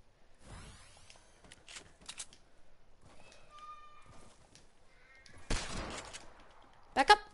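Bursts of gunfire in the Fortnite video game. Short sharp volleys come in separate clusters, with the heaviest burst near the end. Players talk over the shooting throughout.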